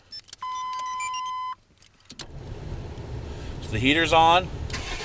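A Chevy truck fitted with an aftermarket alarm and remote start: a beeping signal, then the engine cranks and catches with a rising whir before settling into an idle, while someone speaks over it.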